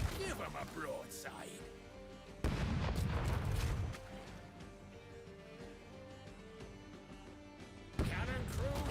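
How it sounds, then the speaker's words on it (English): Ship cannons fire a broadside in the pirate video game Rogue Waters, with heavy booming blasts and rumbling impacts that come in two loud bursts. Voices talk over the gunfire. "Cannon crew, give him a broadside."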